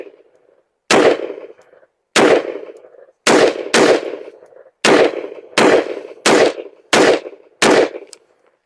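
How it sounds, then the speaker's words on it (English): Handgun with red dot sight and 3X magnifier firing a 10-shot group of X-Tac rounds, loud sharp reports spaced about a second apart, each with a short decaying echo. "Let's shoot a 10-shot group,"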